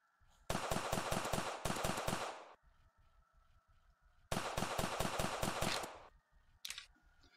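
Video game gunfire shooting zombies: two long, rapid bursts of automatic fire, each lasting about two seconds, separated by a pause, then a short final burst, loud and close with no voices.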